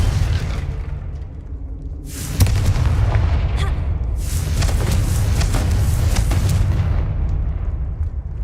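Confringo blasting spell explosions in Hogwarts Legacy, loud booming bursts with rumbling low-end tails, a sharp blast at about two seconds followed by further crackling detonations, no voices.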